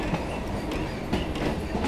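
A Kolkata local train on the Dumdum to Majerhat line pulling out of Patipukur station, with a steady loud rumble of wheels on track and rhythmic clickety-clack joints passing close by.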